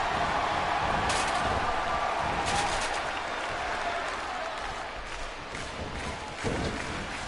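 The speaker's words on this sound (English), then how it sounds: "The crowd getting behind this." A wrestling crowd at an indoor show applauds and cheers steadily throughout, a dense wash of clapping with faint voices mixed in.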